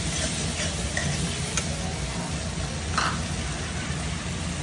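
Water poured onto cumin and dried chilli paste frying in oil, a steady loud sizzle and bubbling hiss with stirring scrapes running through.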